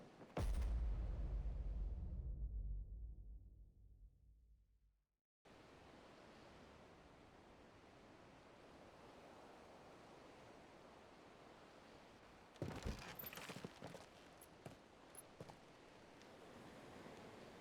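Strong ocean currents and waves in Final Fantasy XVI: a loud whoosh fades out into a moment of silence, then a steady broad wash of rushing sea continues, with a burst of louder splashing and crackle midway.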